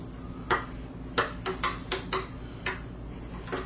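Spoon clinking against a container while yeast is stirred into tap water, about eight light rhythmic ticks over a low steady hum.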